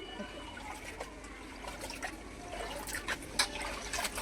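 Water running and trickling during washing in a home kitchen, a soft continuous flow with small splashes and drips, faint and close, without speech.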